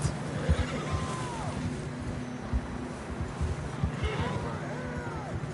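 Horse whinnies from Red Dead Redemption 2, a couple of neighs rising and falling near the start and again toward the end, over a steady low rumble and background noise with faint hoofbeats.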